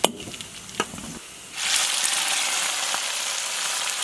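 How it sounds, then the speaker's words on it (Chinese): Hot oil with fried dried chilies and Sichuan pepper hits carp in a Shaanxi-style spicy fish dish: a few clicks, then a sudden loud, steady sizzle that keeps hissing close up to the end. "锅里再烧一点油，下入干辣椒、麻椒， 炒香以后倒到鱼上边"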